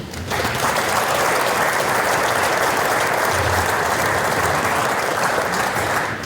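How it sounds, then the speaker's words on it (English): Students at a varsity monogram jacket ceremony give themselves a big round of applause. Steady, loud, sustained clapping from a large crowd fills the whole stretch without a break. "That was a pretty big round of applause."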